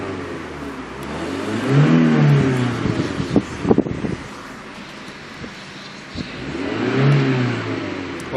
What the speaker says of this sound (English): let's see what kind of noise this car produces